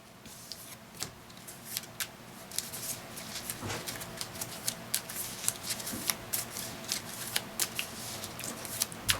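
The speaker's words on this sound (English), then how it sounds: "We'll shuffle." Playing cards for a Marvel Champions card game are shuffled repeatedly, a steady series of crisp riffling snaps and flicks close by, growing slightly denser toward the end with no talk over it.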